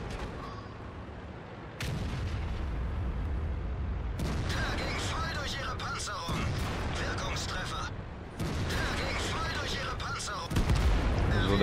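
A T57 Heavy tank in World of Tanks fires several booming cannon shots in a noisy battle, the blasts landing at intervals over a constant engine rumble, with someone talking throughout.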